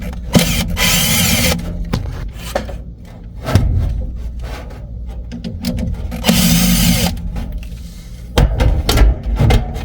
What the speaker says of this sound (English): Take the screws off,